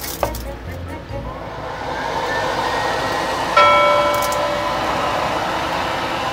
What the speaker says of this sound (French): Là, on va pas aller bien loin avec le sèche-cheveux.